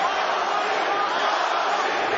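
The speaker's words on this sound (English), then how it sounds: "cheering Cung Lee's name" A fight crowd at the Cung Le vs Scott Smith rematch roars and chants Cung Le's name, a loud, dense, unbroken wall of cheering voices.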